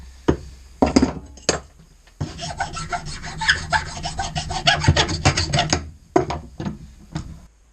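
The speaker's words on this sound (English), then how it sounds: "So I'm going to file them down right now." Small metal pieces for a homemade motorcycle chain guide, for a DR 650, are worked with a hand file: a few short rasping strokes, then a long steady run of rhythmic back-and-forth filing, close and loud, with no talk.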